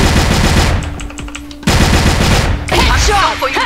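First-person shooter gunfire, loud rapid automatic bursts close up, broken by two short pauses, with chirpy effects near the end.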